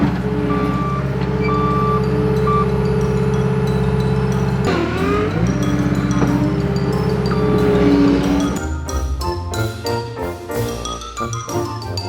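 Skid steer loader at work, its engine droning loudly and steadily with a repeated high reversing beep over it, then shifting toward clunks and rattles near the end.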